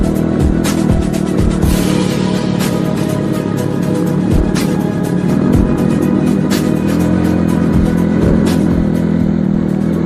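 Trail motorcycles on an off-road ride open the throttle, and loud engine revving and rumble fill the clip continuously along with clattering from the bikes, with no talking.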